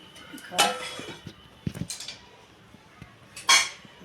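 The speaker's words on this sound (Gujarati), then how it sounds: "આપણે કઢીને ઢાંકી દઈએ" A metal lid set down over a pot of kadhi in a home kitchen, a couple of sharp clinks and clatters with short pauses, fairly quiet and close.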